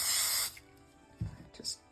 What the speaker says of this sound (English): I just want to see what happens if I spray it with hairspray.